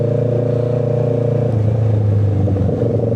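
Big bike motorcycle engine running steadily up close, a deep even drone that drops in pitch partway through as the rider changes revs, with no voices over it.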